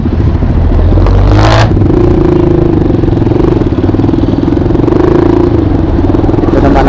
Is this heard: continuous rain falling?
no